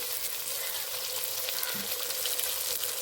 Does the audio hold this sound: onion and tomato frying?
yes